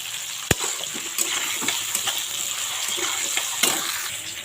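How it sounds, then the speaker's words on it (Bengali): Mango pieces fry in a pan of hot oil with mustard seeds, giving a steady close sizzling hiss with a few sharp pops scattered through it. "তো আমগুলো আমি সুন্দর করে ভেজে নিচ্ছি।"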